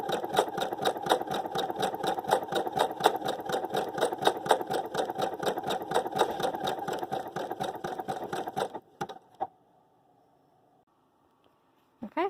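A sewing machine stitches a sleeve into a garment, running steadily with a fast, even mechanical chatter for about nine seconds, then stopping into near silence with a couple of faint clicks.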